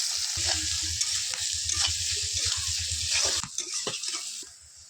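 Sliced onions fry in hot oil in a wok, sizzling steadily while a utensil scrapes and stirs in a quick rhythmic run of strokes that stops near the end, leaving fading sizzle.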